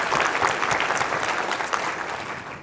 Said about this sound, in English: So quick round of applause for Aria.